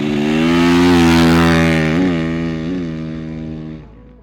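A 2023 KTM SXF450 motocross bike's single-cylinder engine runs loud and close, revving briefly before settling and cutting off near the end.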